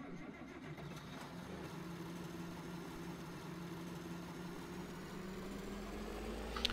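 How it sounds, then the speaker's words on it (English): A tractor idles in Farming Simulator 2013 with a quiet, steady mid-pitched engine hum and a faint noisy hiss, continuing evenly throughout with no talking. "So I'll grab another tractor."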